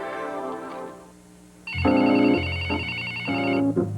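A telephone ringtone in a 1980s TV commercial chirps out as a steady electronic warble in two bursts over a soft musical backdrop, clear and fairly loud, with no talk.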